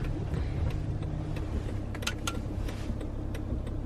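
A van's engine drones steadily while driving over pure ice in four-wheel drive, a continuous close low rumble with a few faint clicks and creaks on top.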